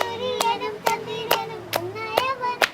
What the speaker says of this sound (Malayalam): കൈയടിക്കടാ